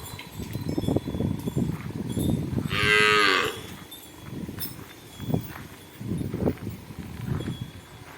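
A cow moos once, loud and close, a long drawn-out low call in the middle, amid rustling and farmyard movement on either side; no speech.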